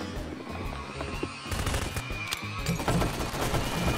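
A grenade blows up in Garry's Mod amid a busy burst of gunfire and blasts, with a loud broadband explosion followed by crackling and rumbling combat noise.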